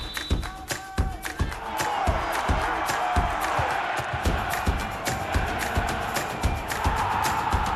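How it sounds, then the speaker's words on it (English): Stadium-style crowd cheering and whooping with scattered claps, a dense roar rising after the opening taps and holding steady at moderate loudness, set in a television advertisement aired around a women's national football match. "let them hear you cheer."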